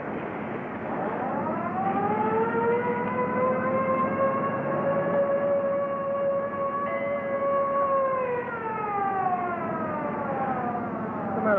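A siren on a car in a 1939 film wails steadily, rising at the start, holding a long sustained tone and falling away near the end, loud and alone.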